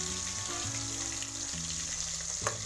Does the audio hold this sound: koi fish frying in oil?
yes